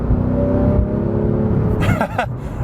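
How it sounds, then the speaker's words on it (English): A Porsche 911 R engine revs up loudly and accelerates, its roar rising and growing rougher, heard up close from inside. "But then you press the accelerator"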